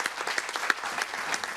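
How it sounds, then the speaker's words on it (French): A roundtable audience applauds a speaker with brisk, fairly close clapping, individual claps standing out within a steady patter over a short stretch. "Vous pouvez l'applaudir."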